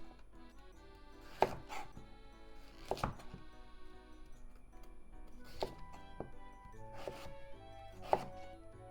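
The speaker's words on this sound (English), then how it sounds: "This end is dry, so let's cut it off just a little bit." Kitchen knife trimming the dry end off a broccoli stem and shaving its outer skin on a cutting board, making about five sharp, separate chopping thunks spaced unevenly, fairly close and quiet.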